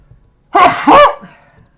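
A person gives a single loud, close sneeze in two bursts, a sharp intake followed by the explosive release, and then a brief quiet tail.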